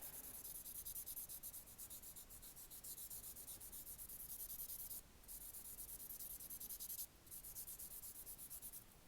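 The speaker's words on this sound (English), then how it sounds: "I'm going to take my buffer and I'm going to just buff over" A nail buffer rubbing back and forth over the surface of a fingernail, a soft, steady, rhythmic close-up scratching that continues throughout with two brief pauses.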